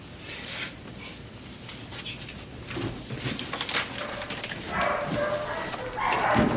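A dog barks and whimpers in short, irregular bursts, fairly close, with people talking in the background.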